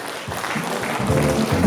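Applause at a Kyrgyz wedding celebration for an honoured artist, a steady loud clapping crowd that swells toward the end.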